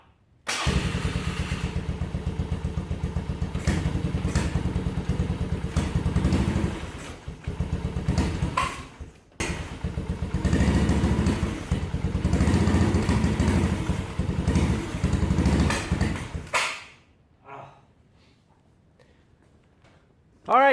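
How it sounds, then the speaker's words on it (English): A homemade custom side-by-side motorcycle engine runs loud and close, rumbling steadily with revs rising and falling, a brief drop near the middle, then cutting off near the end to near silence with a final thump. "We're gonna get one good rev out of this thing before we call it quits."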